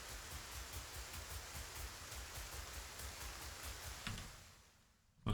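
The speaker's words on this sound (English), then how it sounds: "this rain is very loud to me" Steady rain ambience in a video game, a dense even hiss that runs loud and unbroken, dips briefly near the end, then swells again at the very close.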